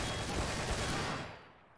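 Sustained burst of gunfire in a Garry's Mod Trouble in Terrorist Town round, a loud, dense rattle of rapid shots that fades out toward the end.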